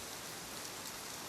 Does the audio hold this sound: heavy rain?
yes